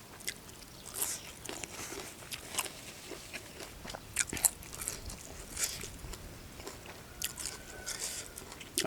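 Roasted cicadas and June beetles are chewed close up, producing quiet, irregular crunches and bites with soft mouth sounds between them and no speech.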